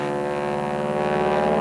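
T6 Texan World War II trainer airplane flying at an airshow, a steady droning propeller engine hum with strong harmonic tones, close and continuous over a short moment.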